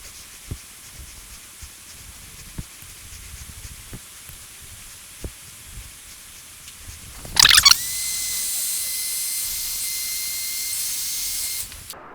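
A heat gun shrinking heat shrink tubing over a motorcycle wire connector: after a few quiet clicks and handling taps, a loud burst starts a steady close-up blowing hiss that holds for several seconds, then stops.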